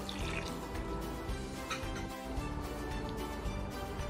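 Half a cup of water is poured into a pan of apple pie sauce cooking on the stove, giving a quiet, continuous splashing trickle for about four seconds.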